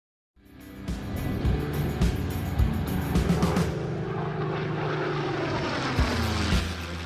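A Supermarine Spitfire propeller aircraft flies by, its engine a loud, steady drone that holds for several seconds before easing slightly toward the end.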